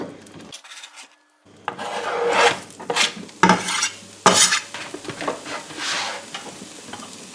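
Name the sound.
onion frying in oil in a pan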